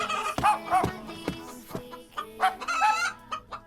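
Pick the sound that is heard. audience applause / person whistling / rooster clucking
rooster clucking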